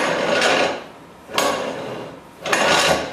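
The vise on a Turn Pro mitering bandsaw sliding freely back and forth, three loud close metallic scraping slides about a second apart, each starting sharply and trailing off, with no speech.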